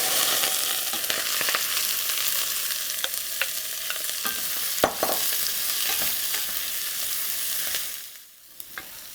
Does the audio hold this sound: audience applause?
no